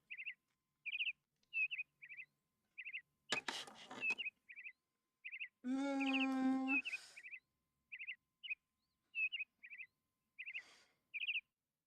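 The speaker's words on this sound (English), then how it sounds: "Bird." Short, high bird chirps repeat in quick pairs across a quiet room, with a brief burst of noise and a hummed vocal tone partway through.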